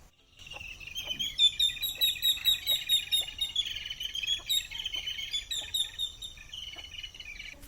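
Continuous bright chirping and tweeting from several sparrows, busy and overlapping, fairly close, with a soft low rumble underneath and no talking.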